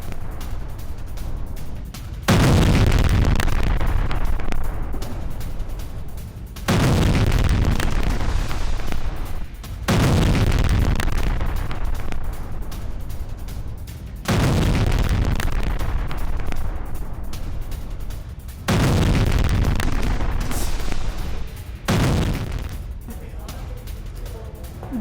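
Explosions from a Hezbollah attack on Israel boom loudly in repeated heavy blasts, roughly every four to five seconds, each followed by a rumbling decay, with news-footage background noise between them.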